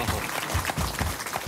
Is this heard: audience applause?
yes